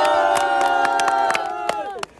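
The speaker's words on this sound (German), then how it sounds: "Okay, nochmal Applaus." A crowd in a public square at Limbecker Platz, Essen, cheers and whoops loudly with bursts of clapping for about two seconds, then tails off into scattered claps.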